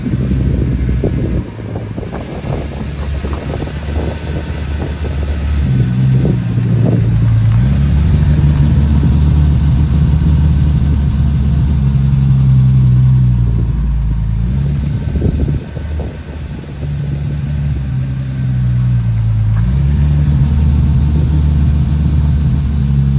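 An S38-swapped BMW E30 drives up and down a driveway, its engine droning loud and close with rising and falling revs and a brief dip midway, wind buffeting throughout.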